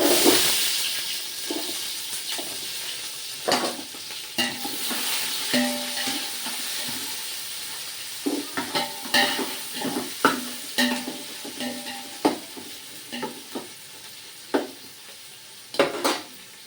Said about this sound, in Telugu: ఉల్లిపాయలు వేగుతూ ఉంది